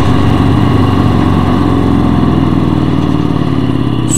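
A 2018 Harley-Davidson Fat Bob 114 motorcycle engine idles loud and close, a deep steady rumble with a rapid throbbing pulse, no talk.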